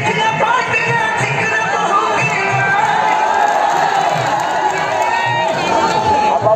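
A crowd at an outdoor kushti wrestling bout (dangal) roars and cheers continuously, with loud shouts and whoops from many voices near and far.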